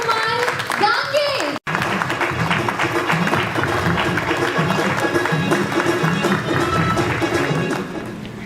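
A crowd claps loudly to welcome CMD Manoj Kumar Dange onto the stage at a Lady Fly product launch held at Hotel Taj. The applause is dense and sustained and stays steady before easing off at the end.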